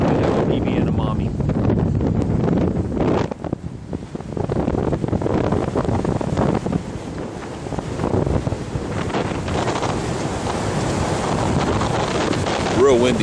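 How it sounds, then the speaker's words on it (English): Strong wind buffets the microphone in a constant roar on a boat crossing a ship channel, with water and boat noise beneath and a voice talking faintly through it. "Real windy today."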